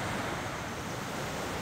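An icy mountain river in the Barot valley rushes in a continuous, loud roar of flowing water close by, with some wind buffeting and no voices.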